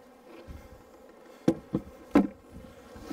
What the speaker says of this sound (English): knock the bees in there.